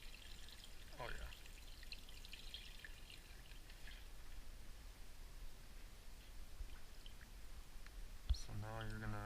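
Vinegar poured over fish for ceviche: a faint, steady liquid pour with soft splashing and dripping, quiet and close, with a brief clunk and a voice near the end.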